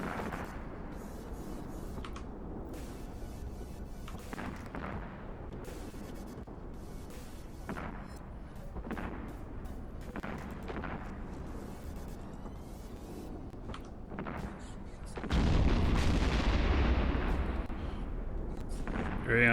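Ship weapons explode in the space video game EVE Online, a continuous rumbling barrage of booms and thuds with one louder, heavier blast near the end, under occasional talk.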